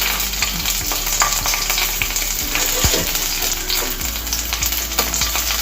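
Chopped garlic and slit green chilies fry in hot oil in a pan, making a loud, steady sizzle with occasional stirring scrapes and clinks throughout, with no talking.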